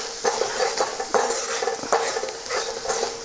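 Salt being stirred into onions frying in a pan for kanda poha, with a loud close sizzle and rhythmic scraping spoon strokes with metallic clinks against the pan.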